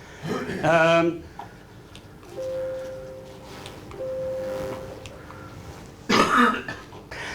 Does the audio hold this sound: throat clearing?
yes